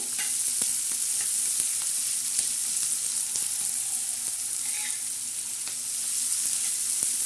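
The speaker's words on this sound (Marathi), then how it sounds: "आता हा कांदा मस्त परतून घ्यायचा असा" Onion sizzles steadily in a pan of hot oil for chana dal chutney, a continuous close frying hiss with faint occasional clicks of stirring.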